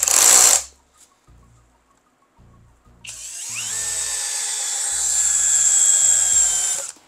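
FortG brushless drill driver revving at maximum speed, a loud high whine starting abruptly and holding steady for several seconds, preceded by a short burst of motor noise and a few low knocks.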